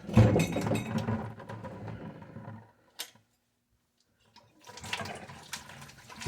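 Water gushes and splashes out of an old, poorly winterized 1-inch ball valve being removed, a loud rush that stops abruptly, then a short knock, silence and renewed dripping and splashing.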